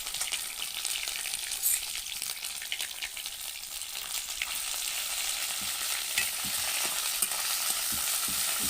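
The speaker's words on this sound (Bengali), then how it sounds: "এবার সে বাটা সর্ষে পাতাটা তেলের পরে দিয়ে দেবো।" Mustard leaf paste fries in oil with nigella seeds, giving a steady close sizzle and crackle with intermittent stirring scrapes throughout, no voices.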